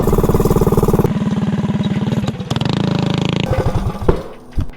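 A small mini bike engine fitted with a cheap clutch runs loud and close, its rapid buzzing putter changing pitch as it revs and settles, then sputtering unevenly near the end.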